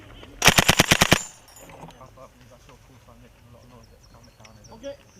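A short, loud burst of about eight rapid machine gun shots during Royal Gurkha Rifles military training, followed by quieter background sounds and distant voices.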